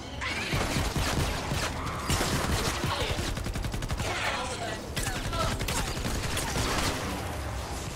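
Rapid bursts of automatic gunfire in the Fortnite video game, loud and dense rattling volleys in quick succession with crashing impacts, a voice talking over parts of it.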